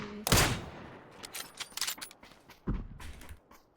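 Gunshots in the video game PUBG: a sharp loud crack first, then scattered fainter shots and clicks, with another distinct shot near the end and brief quiet gaps between.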